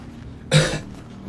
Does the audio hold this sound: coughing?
yes